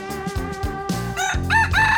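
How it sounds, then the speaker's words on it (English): A rooster crows loudly and close by in a capital city, its long cock-a-doodle-doo rising and falling in strained harmonic bursts, with clucking fowl earlier in the scene. "We've got a literal rooster"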